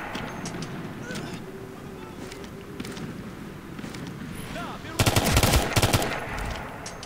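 Gunfire in the video game Ghost Recon Future Soldier crackles in scattered shots at first, then a loud burst of rapid automatic fire erupts near the end. A voice talks quietly beneath it.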